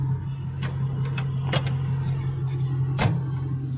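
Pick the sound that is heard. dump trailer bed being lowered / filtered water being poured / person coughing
dump trailer bed being lowered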